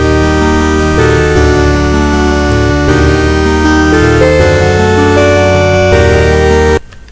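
Harsh 8-bit chiptune converted from MIDI plays loudly with buzzy sawtooth lead and bass lines stacked in steady rhythm, then cuts off abruptly near the end.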